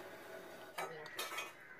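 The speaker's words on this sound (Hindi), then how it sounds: "अब इन मसालों को हम अच्छे से मिक्स कर लेंगे।" Salt, chili powder, dry mango powder and turmeric being mixed in a bowl for an arbi dish: two short scraping, clinking bursts of utensil against the bowl over a faint, quiet background.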